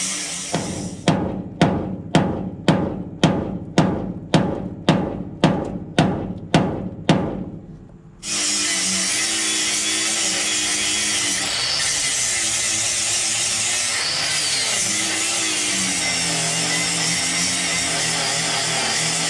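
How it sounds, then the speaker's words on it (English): An angle grinder grinds rust off a heavily rusted dump truck. About a dozen short, evenly spaced bursts come first, then one long, loud, steady grind runs to the end, close up, with no talk. "I gotta take the grinder and I'm gonna grind away that stuff and see what it's like"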